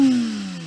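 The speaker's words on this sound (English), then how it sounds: "Sam, let's have a listen to the GT3." Porsche 992 GT3 flat-six engine heard up close, its loud rev note sliding steadily downward as it settles back from a high pitch, with no voices over it.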